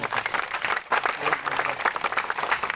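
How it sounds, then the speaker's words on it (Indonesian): Church congregation clapping together in praise, a dense sustained wash of applause from many hands lasting the whole stretch, fairly loud with a brief dip partway through. "Yuk, yang sedikit tepuk tangan bagi Allah"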